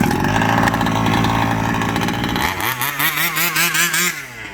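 A large gasoline-powered RC car engine runs loud and close: a steady high buzzing drone at first, then a string of quick revving bursts that rise and fall, with no talking.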